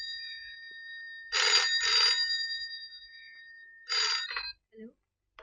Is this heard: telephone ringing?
yes